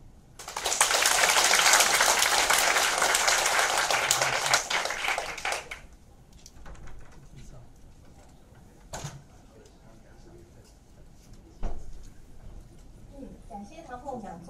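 An audience applauds after a lecture at a workshop, a loud burst of dense clapping lasting about five seconds before it fades into a quieter room with scattered knocks and shuffles.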